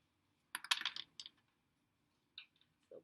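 Typing answers for an algebra problem on a keyboard: a quick cluster of sharp key clicks, then two isolated taps after a pause. Close and fairly quiet, with no voices.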